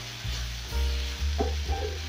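Tomato paste for matumbo wet fry sizzles in a pan with a close, steady crackling hiss, while low bumps and scrapes of stirring break in every half second or so.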